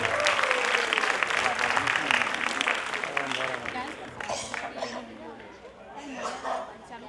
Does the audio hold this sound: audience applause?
yes